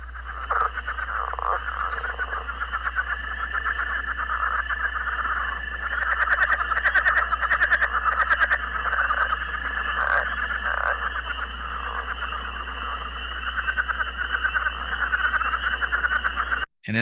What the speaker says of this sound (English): That loud noise is that leopard frog calling.